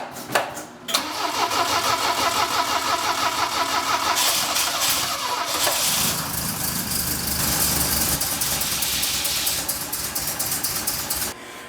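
A Saab Sonett engine cranks after its battery has been on charge, then catches and runs with a loud, steady, close mid-pitched roar that surges slightly before settling into a rough idle, no talking.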